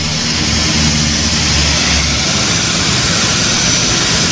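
A jet airliner taxiing before takeoff on a flight to Dubai, heard as a loud, steady engine roar and broadband rush that stays unbroken and close throughout.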